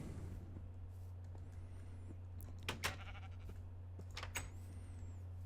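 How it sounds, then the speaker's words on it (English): Minecraft sheep bleat twice, short wavering cries a few seconds apart over a steady low hum, with faint clicks in between and no talking. "we're gonna grab a bunch of the sheep from the surrounding area"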